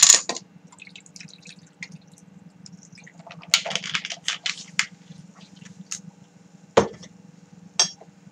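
Lime juice and Wilkinson tonic water poured into a glass for a gin drink, heard as soft drips, fizzy patter and a few sharp clinks over a low steady hum.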